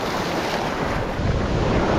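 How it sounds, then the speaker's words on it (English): Big ocean waves crash and roar continuously off the coast at Los Cabos, Mexico, a loud, dense wash of surf mixed with heavy wind buffeting the microphone and no voices. "Those are pretty big waves."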